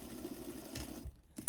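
A home sewing machine stitching fabric for a summer dress, a brief close whirring run that stops, then a couple of short mechanical clicks and bursts, no talking.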